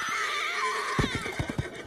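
A horse in the anime Vinland Saga gives a short whinny, a breathy neigh that breaks into a few rapid pulsing bursts near the end.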